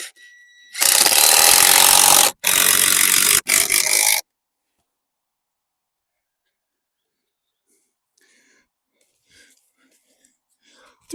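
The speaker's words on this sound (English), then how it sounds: "I can always cut these off to make it all flat" A hand saw cuts through wood while a raised bed is levelled at an allotment. Loud rasping strokes come in three close bursts, then quiet follows with faint sounds in the distance.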